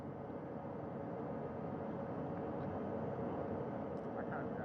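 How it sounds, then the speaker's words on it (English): A helicopter hovers about 40 feet above a front porch at a recovery site, a steady, fairly faint rotor and engine rumble with no break. "Helicopter 1 again hovering 40 feet over the front porch."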